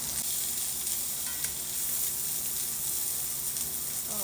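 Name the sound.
onions and bell pepper sizzling in a pan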